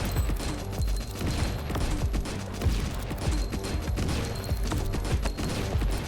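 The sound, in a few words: explosive shotgun burst firing, from video game Nimrods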